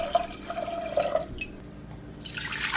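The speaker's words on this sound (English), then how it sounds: "a small one with 4 cups of water. So 4 cups of water in this one." Water poured from a container into a small cooking pot for spiced tea, a close splashing and trickling stream with bubbly liquid tones, followed by a brighter rushing pour near the end.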